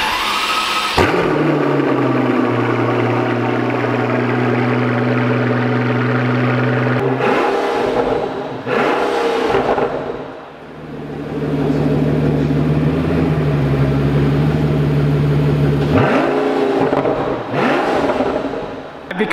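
A Pagani Huayra with a titanium Tempesta exhaust cold-starts with a loud bark, then holds a heavy, steady high idle. Two sharp blips cut in partway through, and the deep idle drones on between them.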